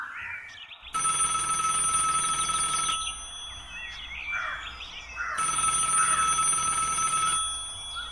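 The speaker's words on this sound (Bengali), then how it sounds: "এমন সময় টেলিফোন বেজে উঠল ঝনঝন শব্দে।" Old-style telephone bell ringing as a sound effect in a Bengali audio story, two long shrill bursts of ringing separated by a short pause.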